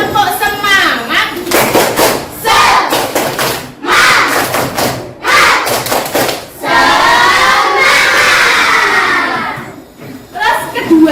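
A classroom of children performs the tepuk semangat, a rhythmic group clapping routine, with loud clustered claps and thumps mixed with the whole class chanting and shouting together, close and lively throughout.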